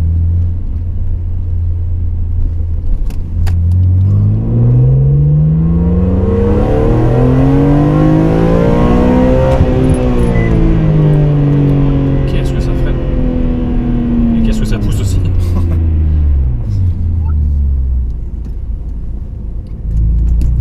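A big naturally aspirated car engine revs up and climbs smoothly in pitch, then winds back down, loud and close, with a steady rumbling undertone throughout.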